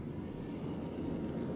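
Continuous low propeller aircraft engine drone from carrier planes in the naval warfare game World of Warships, with a steady, even hum throughout and no voices.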